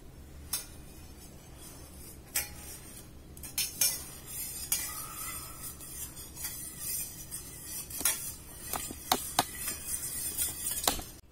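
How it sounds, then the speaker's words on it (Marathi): A spoon stirs lemon juice in a glass, making quiet irregular clinks and taps against the sides over a faint background hiss, with sharper knocks clustered toward the end. "खाली आता मी जरा मिक्स करायचं."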